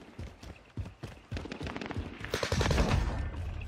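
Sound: gunfire in a video game (Warzone, Caldera)

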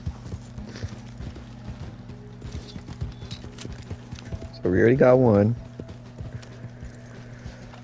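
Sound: horse hooves in Red Dead Online video game

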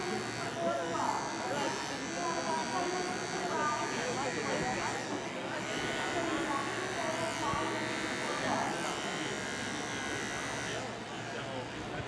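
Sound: electric pet clipper trimming a poodle

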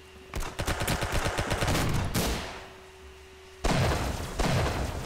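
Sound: Tommy gun firing in video game Roblox Arsenal

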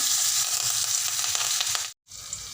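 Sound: mustard seeds, chili thecha and curry leaves sizzling in hot oil

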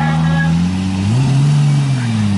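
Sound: 750HP 2JZ 180SX drift car engine revving

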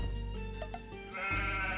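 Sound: sheep bleating in the video game Age of Empires 2

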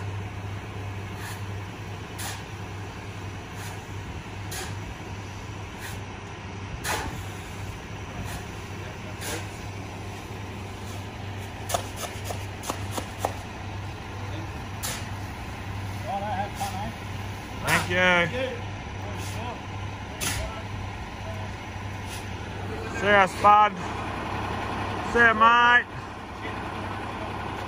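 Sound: truck driving off, air brakes and idling engine

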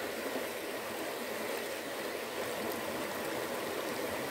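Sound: cold water falling in a stream

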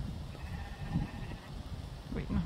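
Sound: sheep bleating

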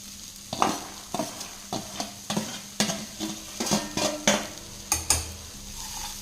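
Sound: green gram stirred into the pan for sundal

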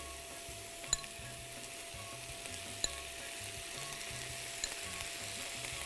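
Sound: noodles and vegetables sizzling in wok as soy sauce is added

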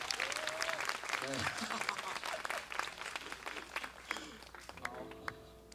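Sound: audience applause

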